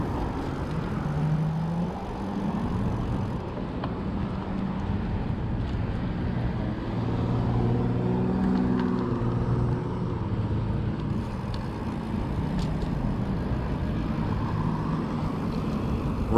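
Steady road traffic at a crossing of 8 Mile Road in Detroit, a continuous broadband rumble of passing cars and trucks at moderate distance with no pauses.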